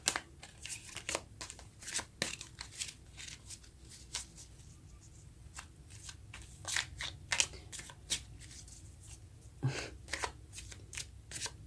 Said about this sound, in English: the cards don't shuffle smoothly